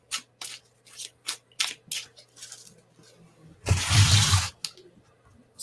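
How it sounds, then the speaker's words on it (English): Tarot cards shuffled by hand, first as a series of soft separate flicks and taps, then a longer dense riffling burst, close and clear with no talking. "Well, I was shuffling."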